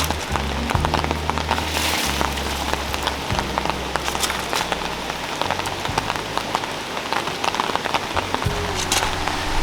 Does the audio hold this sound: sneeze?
no